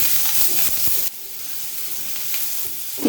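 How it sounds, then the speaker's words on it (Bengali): Chopped onion, garlic and ginger fry in ghee with a loud, steady sizzle, which briefly drops in intensity as the contents are stirred, then continues evenly; nobody speaks. "এখন এই রসুন পেঁয়াজ কুচি সব আমি একটু ভেজে নেবো"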